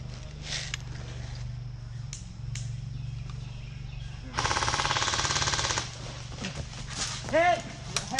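Airsoft guns fire during a nighttime game, with a sustained rapid automatic burst in the middle and scattered single pops around it, close and loud, while players shout and talk.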